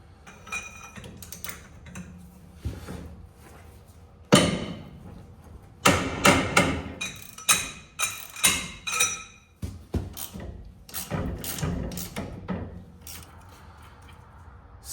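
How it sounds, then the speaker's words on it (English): Sharp metallic clacks and knocks of a ratchet with a breaker bar working loose a CV axle bolt on a Mk1 VW Golf Rabbit, a series of irregular close bangs and clinks without talk. "You could use an impact gun or just a ratchet like this with a bar on it."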